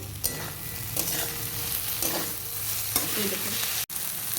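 Water spinach (kalmi shak) frying in a pan, stirred with steady scraping strokes every second or so over a continuous close sizzle, with no talking.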